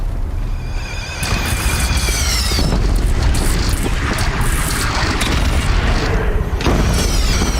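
Heavy cannon fire booms in a Horizon Zero Dawn battle, with loud, dense blasts and crashing layered under constant game noise and music throughout.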